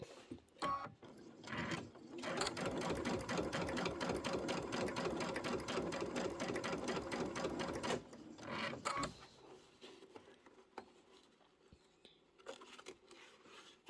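An embroidery sewing machine stitches a snowman tiling scene in a fast, steady mechanical run of needle strokes that lasts several seconds, then stops and leaves quiet handling sounds.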